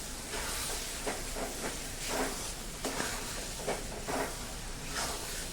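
Amla chyawanprash mixture with jaggery and sugar sizzles and hisses steadily in a pan while being sautéed, with soft scraping stirs rising at intervals over the constant frying noise.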